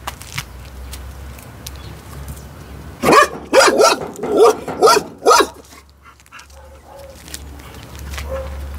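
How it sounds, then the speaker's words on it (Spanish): A dog barks in a run of about five loud, close barks in quick succession at a house entrance, with quieter background noise before and after. "Se empezó a ladrar."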